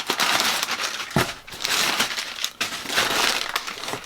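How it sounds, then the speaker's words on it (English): Packing paper crinkles and crushes loudly up close while a box of manga books is unpacked, in several bursts of rustling with brief pauses between. "I'm gonna make a little bit of noise here as I'm opening up and getting the paper out of here"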